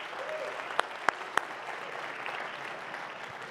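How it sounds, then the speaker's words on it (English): A congregation at an evening Grandparent Shabbat service applauds its grandparents, with soft, diffuse clapping spread through the room and three sharp, brighter claps standing out near the start. "let's give a big welcome, a round of applause to all of our precious grandparents that are here with us this evening"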